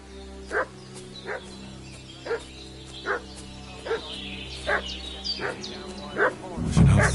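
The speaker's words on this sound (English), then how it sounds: "What's that dog making such a fuss about?" A dog barking in a video game, repeating a single bark about every second or so, at moderate distance, over a steady ambient hum, with a voice speaking at the very end.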